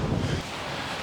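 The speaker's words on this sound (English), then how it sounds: "It's too windy, let's go to another hole." Steady wind buffeting the microphone on a golf course, a broad rushing roar that is heavier at first and then eases slightly, with no voices.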